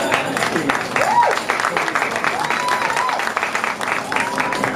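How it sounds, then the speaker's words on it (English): Applause from the audience at an awards brunch, loud and continuous, with whoops and voices rising over the clapping. "Another round of applause for the great Matthew Knowles."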